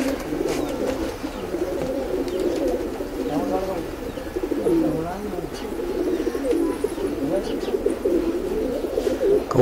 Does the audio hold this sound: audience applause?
no